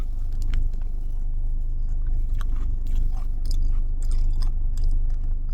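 Close chewing while eating Biscoff caramel ice cream, with wet, squishy, crunchy bites repeating irregularly over a steady low background rumble.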